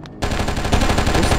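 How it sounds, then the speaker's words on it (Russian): Rapid automatic gunfire rattles loudly and continuously in the video game Oni, starting abruptly after a brief quiet moment and keeping up a dense burst of shots. "Кто стреляет?"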